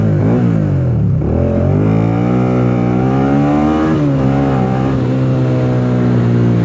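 A Suzuki Gladius 650 motorcycle revs loudly and up close, its exhaust note climbing and falling in smooth sweeps. The engine dips around the one-second and four-second marks, then pulls back up. No one speaks.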